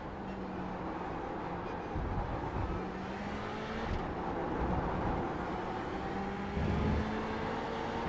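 GTE-class race cars in an IMSA racing video game, a steady engine drone with tonal whines and a few louder surges as cars close in from behind.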